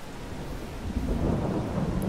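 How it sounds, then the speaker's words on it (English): Rain and thunder in the farming video game Farming Simulator 22, a low rumbling roll of thunder swelling under a steady hiss of rainfall, with no voices. "And now it's raining."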